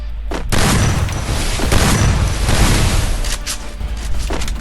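Gunfire from the Free Fire video game, a dense, loud barrage of overlapping shots and booms that rolls on almost without a break, with sharper cracks standing out here and there.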